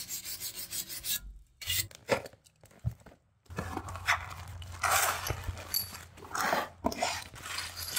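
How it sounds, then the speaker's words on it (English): A wire brush scrubs the underside of a 2012 Toyota Tundra, with close bursts of harsh rasping strokes broken by short pauses, ending in longer continuous scraping. "Go ahead and wire brush this."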